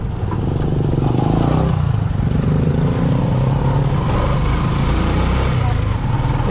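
An overheating engine idles steadily up close, a loud continuous low rumble with rattling clatter throughout, and someone talks over it at times.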